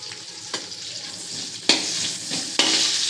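Onions sizzling and frying in a pan for chicken pulav, a steady loud crackle broken by a few sharp stirring scrapes, with no talking.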